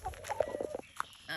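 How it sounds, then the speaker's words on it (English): Pet chickens cluck and make short calls in a home garden, several soft bursts close by with a brief louder squawk near the end, no talking. "my chickens come running to me because I've been spoiling them with food"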